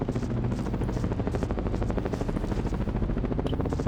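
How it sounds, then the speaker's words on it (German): A helicopter in the Ghost Recon Advanced Warfighter video game, its rotor beating in a fast, steady chop that stays loud and constant throughout, with bursts that may be gunfire mixed in. "Der Helikopter."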